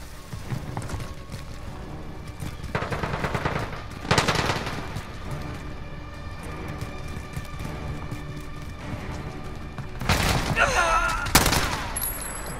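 Automatic weapon fire in a Call of Duty: Modern Warfare Gun Game match, with bursts of rapid hip-fire shots near the start, around four seconds and again toward the end over a busy in-game background.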